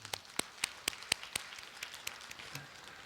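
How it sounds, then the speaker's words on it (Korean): A church congregation applauding during a Sunday service, with sparse, distinct claps spaced through the clip rather than a dense ovation, moderately close and fading toward the end. "우리 하나님께 감사와 영광의 박수 올려드리겠습니다"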